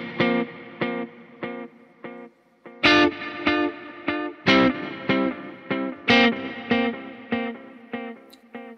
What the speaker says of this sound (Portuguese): Aqui nesse 1A, eu tô deixando tape com modulação, né? Bastante modulação.